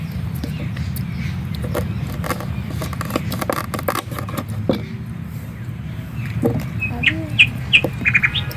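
Birds chirp and call outdoors with bright, clear tweets that grow more frequent toward the end, over a low background rumble and a few kitchen clatters.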